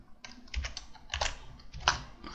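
Soft, uneven keystrokes on a computer keyboard as an option is entered into a Microsoft Forms online survey, a short burst of close, quiet typing with no voices.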